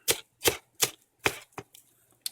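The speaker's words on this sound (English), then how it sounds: "Just chopping the cilantro to put in the cabbage." A knife chopping fresh cilantro on a board for Bengali cabbage: five crisp, evenly spaced chops with a slower last pair, close and clear, with no talking.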